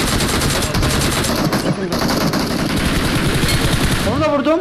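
Rapid, loud automatic gunfire in a shooting video game, continuous bursts and single shots filling the whole stretch while players talk over it.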